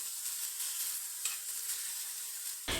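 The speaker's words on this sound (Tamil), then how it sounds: "மிதமான தீயிலேயே வச்சு நல்லா கிளறி விட்டு வதக்கிட்டுக்கோங்க" Ridge gourd sautés in a pan over medium heat with a steady, close hiss of sizzling, broken by a few soft stirring scrapes and a louder clack at the very end.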